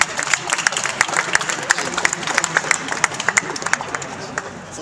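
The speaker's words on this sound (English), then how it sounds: "Warmer hand of applause," Audience applause at a start-up competition event in Utrecht, the Netherlands: steady, dense clapping from a crowd filling the whole stretch, with sharper individual claps popping out over the general wash.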